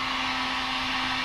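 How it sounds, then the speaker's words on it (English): Heat gun blowing steadily on a metal firewall A/C delete plate for an 84 Cutlass, a loud, close, continuous whooshing roar with a constant motor hum and no talking. "just grab a heat gun"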